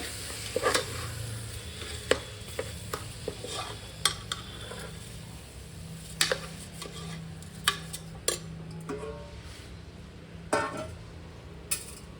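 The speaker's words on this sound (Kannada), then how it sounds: "ಎಲ್ಲನೂ ನೀಟಾಗಿ ಮಿಕ್ಸ್ ಮಾಡ್ಕೊಳ್ಳೋಣ" Washed rice is stirred in a pot with spices for kushka rice, giving a soft, steady sizzle under sharp scrapes and clinks of a metal spoon against the pot at irregular intervals, with no talking.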